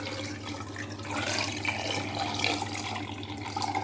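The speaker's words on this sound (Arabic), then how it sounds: "صافي ونضيف الماء" Water pours steadily over lemons in a container for preserving, making a continuous close splashing and trickling rush that swells slightly midway, with no voices.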